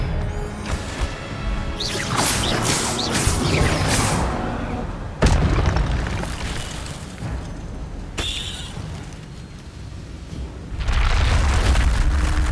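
Expelliarmus spell cast in the 2023 video game Hogwarts Legacy, heard as loud booming impacts and swooshing bursts, with a couple of sharp crashes between them.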